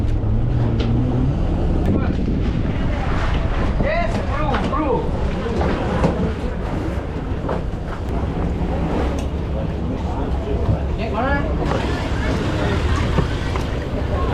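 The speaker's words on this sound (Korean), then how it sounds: "스피드보트에 올라타고" A speedboat engine drones steadily over rushing water and wind in Phang Nga Bay, Thailand, with voices talking on board throughout.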